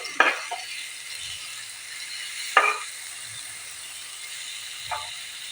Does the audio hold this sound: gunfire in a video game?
no